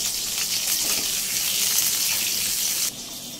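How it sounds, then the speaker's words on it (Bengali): Potatoes fry in oil with a continuous bright hiss and crackle that holds steady, then drops to a quieter sizzle near the end. "এদিকে আলু ভাজাটাও চলছে"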